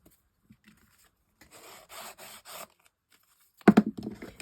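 Sandpaper rubbing the fuzzy underside of a cut craft piece, with soft scattered scratches, a run of light rhythmic rasping strokes and then a louder, closer burst of scuffing at the end.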